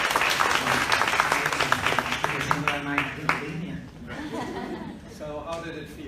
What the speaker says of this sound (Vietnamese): Các bạn cho bạn một tràng pháo tay.